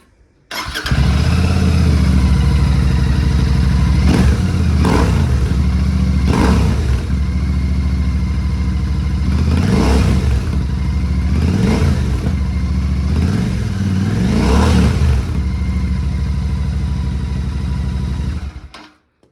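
A Royal Enfield Shotgun 650 Icon twin with a Rhino Racing exhaust, baffles fitted, cranks and starts, then settles into a loud, steady close-range idle with several periodic blips of the throttle, alone without talk.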